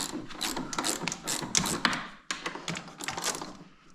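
Ratchet wrench turning a 15 mm socket on a budget sled's belt drive, a close series of quick clicking taps and mechanical clacks in short bursts with a brief pause midway.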